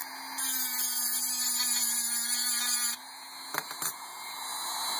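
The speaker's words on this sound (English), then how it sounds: "basically I'm just going to grind through the plating, if there is a plating, on each and every one of these pieces" A Dremel rotary tool grinds through the plating on gold pieces with a steady, high, whining drone for a few seconds, then short bursts of contact grinding.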